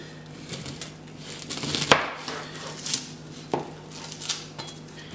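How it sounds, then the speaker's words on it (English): A knife cutting the top off a whole garlic bulb on a board for roasting, heard as a few close, crisp chopping thuds and crunches spread over several seconds, with one firm cut standing out and no talking. "First, you want to cut the extra top off of the bulb."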